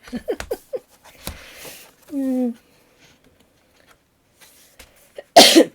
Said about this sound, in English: I'm still coughing, I'm sorry.